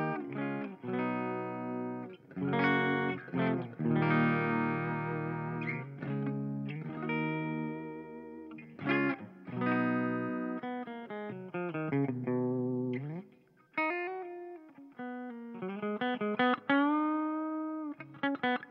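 A clean electric guitar through a Marshall MG100HCFX amp plays chords and single notes with a soft spring reverb tail, steady and fairly loud throughout, no voices.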